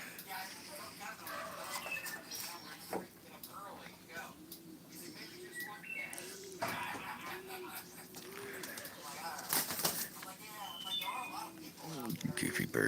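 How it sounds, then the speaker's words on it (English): Pigeons or doves coo in a repeated soft rhythmic series close by, with people talking over and around the calls. "Goofy birds."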